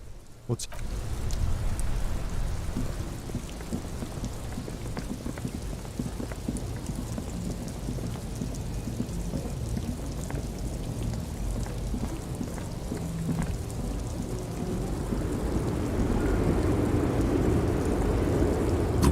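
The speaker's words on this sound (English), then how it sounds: "Stuck in the rain in a traffic jam, man." Steady rain with low thunder rumbles in the Disco Elysium video game, a continuous wash of downpour and pattering drops holding at an even level throughout, with faint voices underneath.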